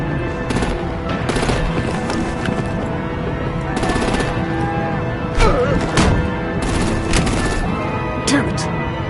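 Artillery and rapid gunfire in the Batman: Arkham Knight video game erupt in loud, repeated bursts and booms, with machine-gun rattles stacking over a constant noisy battle backdrop.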